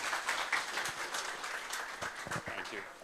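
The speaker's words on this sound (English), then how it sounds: "A big round of applause for Mr." Audience applause at an investment education talk as the speaker Arpit Arora is welcomed: a steady, dense wash of many hands clapping at moderate loudness for about three seconds, with faint voices mixed in.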